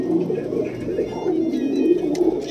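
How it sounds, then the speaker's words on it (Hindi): Punjabi pigeons cooing in soft, low, rolling repeated calls, close by and steady throughout, with faint background noise. "बिल्कुल बारीक सुधे हुए पंजाबी कबूतर है"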